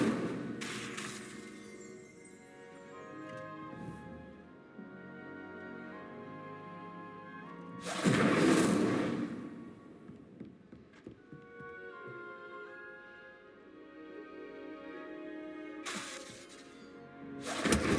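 Fire spell cast in Hogwarts Legacy, loud whooshing bursts of flame erupting three times at intervals over a steady musical score, with crackling impacts among the blasts.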